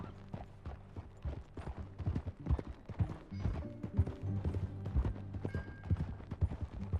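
Rhythmic clip-clop of a horse's hooves at a steady trot in the video game Red Dead Redemption 2, with faint mechanical clinks and a brief whinny in the background.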